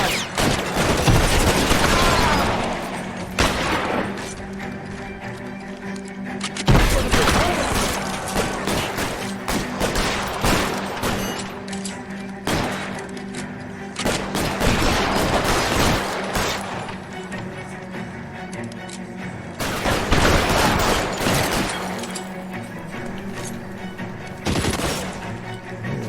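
A machine pistol and other guns fire repeated bursts in L.A. Noire during a police shootout. Dense volleys come and go over the span, loud and close, with some faint game voices between them.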